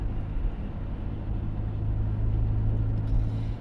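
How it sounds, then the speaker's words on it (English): Car engine running loud and rough from too much air in the fuel, a steady heavy low rumble heard from inside while driving, with no distinct backfire pops standing out. "it's getting too much air into the fuel. And that's what's making it backfire and run so loud"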